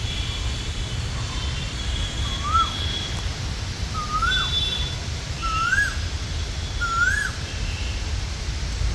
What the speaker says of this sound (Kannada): ಮಳೆ ನಿಂತ ಕೆಲವೇ ಕ್ಷಣಗಳಲ್ಲಿ ಕೋಗಿಲೆ ಅತ್ಯಂತ ಖುಷಿಯಾಗಿ ಕೂಗ್ತಾ ಇದೆ